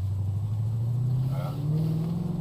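A BMW 645i E63 coupé with a V8 engine pulls away under acceleration, its low engine drone rising steadily in pitch from inside the cabin, with a faint voice briefly over it.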